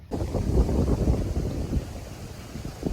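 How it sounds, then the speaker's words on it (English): Gusty wind rumbles and buffets the microphone outdoors in light drizzle, a constant low roar with no voices. "It's getting a little drizzly, a little windy."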